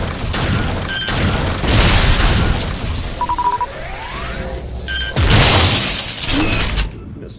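Mines shattering under Samus's power beam fire in Metroid Prime, a pair of loud crashing bursts with metallic tones and electronic game effects between them.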